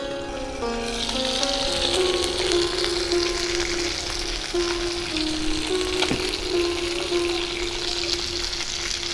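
Pieces of Gurjali fish fry in oil inside a covered pan in an open-air kitchen, giving a steady, loud sizzle that holds for the whole stretch, with a faint tonal hum beneath it.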